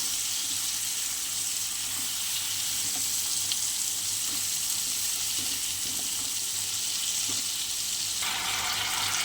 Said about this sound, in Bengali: হলুদ গুঁড়ো লঙ্কার গুঁড়ো লবণ স্বাদ মতো দিয়ে দিয়েছি আমার চলো সুন্দর করে ভেজে নিই